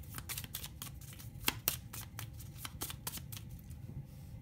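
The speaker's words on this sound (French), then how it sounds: "Je vais tirer une autre carte." Tarot cards are shuffled and drawn close up in a quiet room, giving a run of quick riffling flicks and snaps in an uneven rhythm, with a few sharper card clicks standing out.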